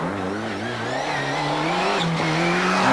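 A Ford Cosworth rally car on a Manx stage accelerates hard past, its engine note climbing steadily and loud and near, with a brief dip around a gearchange before rising again.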